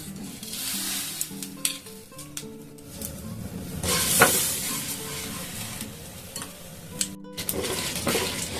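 Dried chillies with coriander and cumin seeds frying in a pan, a soft sizzle under frequent scraping and clinking stirs, close by, with a brief louder rushing burst in the middle.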